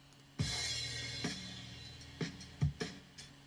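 A sampled drum break plays forward at normal speed, with kicks and snare hits landing in an uneven, syncopated pattern over a low sustained bass tone, fairly quiet and clean with no voices.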